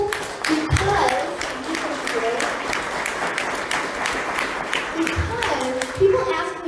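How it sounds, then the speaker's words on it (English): A large audience fills the space with sustained applause, dense continuous clapping at a steady level, while a voice speaks briefly at moments over it. "I'd like everybody in here to give another round of applause for those people"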